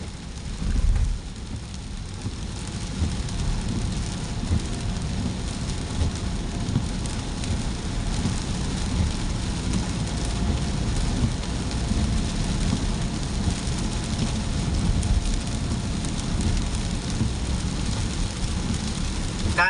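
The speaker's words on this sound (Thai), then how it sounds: "ฝนตกช่วงเย็นครับ" Steady heavy rain drums on a car driving along the Bangkok–Pattaya motorway, a dense constant hiss mixed with road rumble, no voices.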